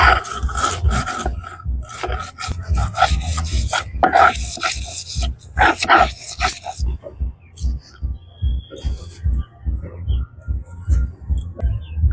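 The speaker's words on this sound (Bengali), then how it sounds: "এবারে সর্ষে বেটে নেব।" Mustard seeds are ground on a grinding stone for an olive pickle, giving repeated rhythmic rasping strokes, loud and close at first and then softer and steady.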